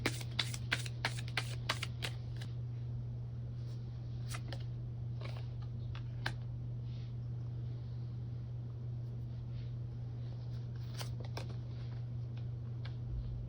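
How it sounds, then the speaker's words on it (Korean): Tarot cards are shuffled and drawn. Crisp papery clicks and riffles cluster at the start, with a few more bursts near the middle and end, heard over a constant low electrical hum. "이 카드가 되게 애매해서 추가 카드 뽑아보도록 할게요"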